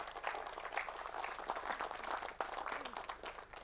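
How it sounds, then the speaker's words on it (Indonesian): An audience claps at the end of an inspirational talk segment, a fairly faint but continuous patter of many hands at uneven, overlapping beats. "Oke, tepuk tangan kawan-kawan sekalian."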